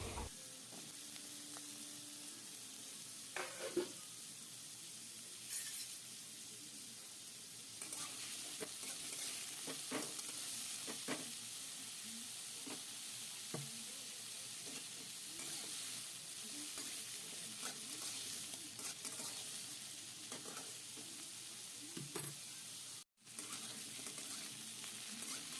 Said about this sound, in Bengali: আলুগুলো খুব ভালো করে ভেজে নিতে হবে মিডিয়াম ফ্লেমে।